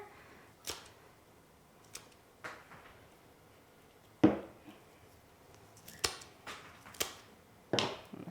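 Clippers snip through flower stems one cut at a time while a market-style bouquet is trimmed, sharp isolated clicks spaced a second or more apart, close and crisp.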